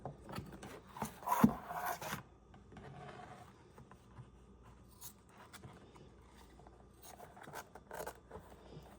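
Paper is trimmed for a vintage journal binding, with a burst of close rasping cuts near the start followed by quieter scattered snips and rustles, and no talking.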